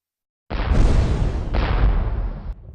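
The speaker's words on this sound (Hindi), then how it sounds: "आसमान में लगातार अनगिनत तोप के गोले फटने लगे" Anti-aircraft cannon shells burst in the sky in heavy, rumbling booms, two loud overlapping blasts back to back with a deep, rolling low end.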